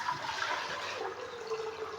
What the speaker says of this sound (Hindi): सबसे पहले 1 लीटर पानी इसमें मैं डाल दूंगा।